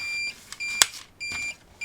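Repeated high-pitched electronic beeps in short bursts with brief gaps from an ultrasonic measuring and alarm electronics kit, plus a sharp click in the middle; no talking.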